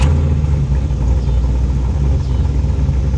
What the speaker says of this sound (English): the idle is a little high when you have the AC off and it's in park